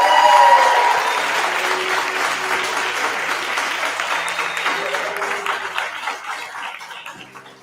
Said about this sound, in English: bring him in with some hand claps and let him speak to you all